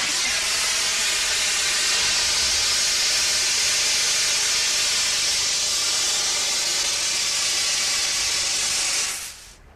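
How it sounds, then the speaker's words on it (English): Liquefied gas sprays out of a pipe through an open valve, a loud, steady, close hiss that holds for nearly ten seconds before cutting off abruptly as the valve shuts. "If I open the valve, it'll shoot out of this pipe and evaporate very rapidly back to a gas"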